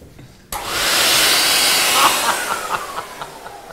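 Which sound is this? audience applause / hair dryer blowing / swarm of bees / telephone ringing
hair dryer blowing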